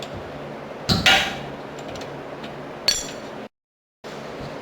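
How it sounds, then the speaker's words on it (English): Metallic clinks and a ratchet-like rattle as 14mm caliper mounting bolts come off a 1995-2003 Nissan Maxima rear brake, with two sharp tool strikes followed by a quieter clatter, close and without talk. "remove the two 14mm head caliper mounting bolts"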